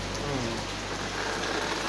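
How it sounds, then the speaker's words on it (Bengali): Steady rain falls on a rainy day at home, a soft continuous hiss with a faint low hum beneath, no voices, even and unbroken throughout. "বৃষ্টি চলছে।"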